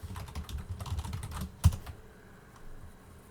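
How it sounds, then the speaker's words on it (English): Computer keyboard typing while entering a question for a locally run Phi 4 language model, a quick run of close, clear key clicks with one sharper keystroke near the middle, then a quiet stretch. "So let's try to type here."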